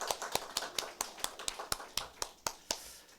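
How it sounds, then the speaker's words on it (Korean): A church congregation claps in thanks after a sermon: a quick, fairly even run of sharp, distinct hand claps, somewhat faint and distant, with no voices over them. "우리 오늘 귀한 말씀 전해주신 우리 스테반 목자님에게 다시 한번 감사의 박수 보내주십시오."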